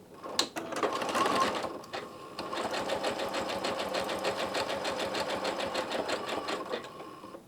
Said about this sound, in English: When you start sewing a zigzag on the Janome machines, if it's an electronic machine, it's going to do a lock stitch first.